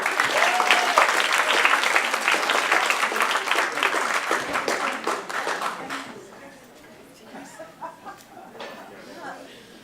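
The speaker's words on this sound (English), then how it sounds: "please keep that applause going for DOlfman, everybody." A comedy club crowd in Philadelphia claps loudly and densely, the applause thinning and fading over several seconds into scattered claps and a few chuckles.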